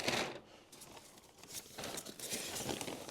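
A plastic bag crinkles and rustles close by as a GRACE Little Rebel is unboxed, with soft, irregular crackles and small tearing sounds running throughout.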